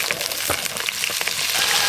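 Potatoes, cauliflower and other vegetables frying in a pan for khichuri give a brief, close, continuous sizzle and crackle, with no talking.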